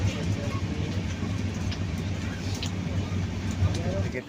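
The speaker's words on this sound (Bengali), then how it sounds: "ট্রেন চলে এলো কটকে" Steady low rumble and rolling clatter inside a moving Puri-Howrah Shatabdi Express passenger train, a continuous carriage hum running unbroken throughout.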